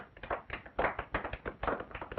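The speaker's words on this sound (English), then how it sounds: "Ovation, wild applause" A small group gives an ovation in a living room, quick close hand claps in a brisk, slightly uneven patter, fairly quiet and with no voices over them.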